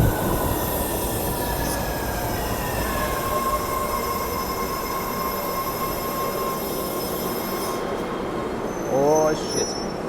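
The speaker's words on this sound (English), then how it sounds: "Here comes the train." A train rolls into a station with a steady rumble, high metallic wheel squeals and whining tones, then a brief voice near the end.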